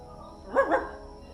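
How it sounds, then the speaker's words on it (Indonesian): A dog gives two quick barks close by, with a faint steady hum underneath. "Oh, suaranya dogi."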